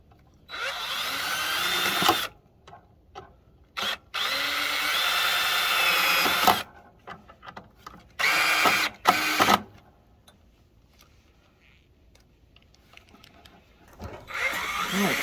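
A power drill drives screws into a metal firewood rack: several loud whirring bursts of a few seconds each, separated by short pauses and softer handling clatter, with no talking.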